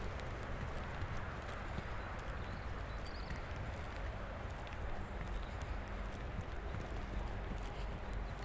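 A horse's hooves during a riding lesson with a young horse in an arena, soft repeated thuds of steady footfalls set far back under a constant low rumble of wind.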